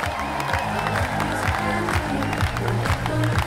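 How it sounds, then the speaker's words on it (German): Festival crowd applauding and cheering for two moderators, dense continuous clapping close by with a voice talking over it. "Das ist euer Applaus für unsere zwei Moderatoren hier"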